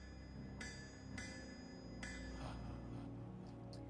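Hammer striking an anvil at a forge in the video game Star Stable Online, four bright metallic clangs spaced about a second apart over a low game soundtrack, the last ones fading quieter.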